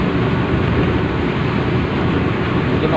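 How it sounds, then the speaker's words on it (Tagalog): Steady, dense roar of heavy rain from Typhoon Odette pouring down, loud and continuous with no breaks or voices. "Dito, malakas yung ulan din dito."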